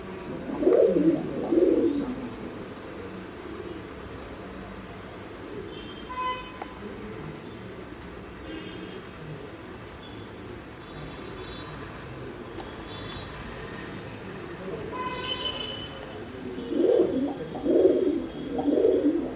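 Racing pigeons from a Coimbatore race-winning loft coo in low, throaty bursts, clustered at the start and again near the end, with a quieter, softer stretch between and no talk.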